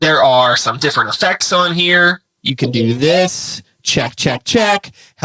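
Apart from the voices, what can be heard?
No distinct noise like a dog, phone or traffic.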